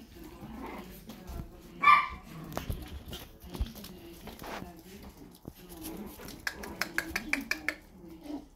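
Chihuahua or toy poodle puppies yapping in a few short, high-pitched barks amid indoor clatter, with someone talking over them and a voice imitating the bark.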